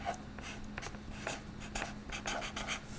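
Pen writing on a sheet of purple paper in a notebook, a steady run of soft scratchy strokes and taps, close and fairly quiet, with a faint steady hum underneath.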